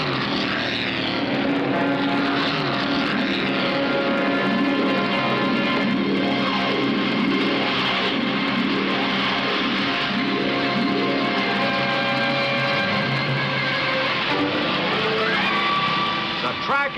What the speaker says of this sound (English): Cars look more like speedboats as they plow through the submerged race course.